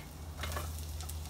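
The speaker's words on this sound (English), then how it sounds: "to this, I'm gonna go ahead and add my garlic" Garlic hitting a hot pan for sun-dried tomato pasta, giving a soft, brief sizzle with a couple of small bursts over a low steady hum.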